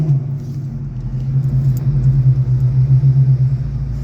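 Car engine idling with a light blip of throttle inside a road tunnel, a steady low rumble with slight swells in intensity, close and reverberant, no talk.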